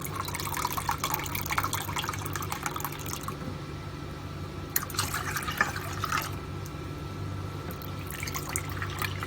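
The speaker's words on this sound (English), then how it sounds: "we're going to do 3 cups of pineapple juice" Pineapple juice pours steadily into a cooking pot, a continuous close liquid splashing and trickling stream that tapers off near the end.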